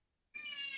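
A house cat lets out a single short, clear meow that starts abruptly after a moment of near silence and holds steady to the end, close and alone.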